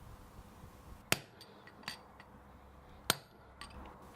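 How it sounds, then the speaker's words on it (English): Sharp metallic hammer strikes on a steel punch drive ball bearings into bolt heads: two loud clinks and a few lighter taps, spaced unevenly and close by in a quiet room. "Use a hammer and punch."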